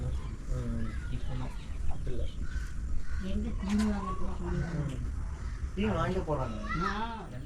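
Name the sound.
chickens and roosters in a chicken shed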